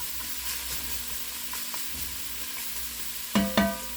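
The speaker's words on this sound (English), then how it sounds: "We're going to dump the carrots in. Give them a little bit of a stir." Carrots stirred into a sizzling chicken stew in an enameled cast iron Dutch oven, a steady soft frying hiss with faint scraping and two sharp clanks of a utensil near the end.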